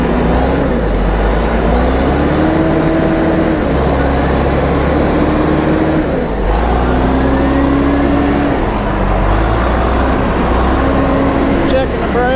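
A backhoe loader's engine runs steadily and loudly through a brake and drive test, rising and falling in pitch as it works, with someone talking over it.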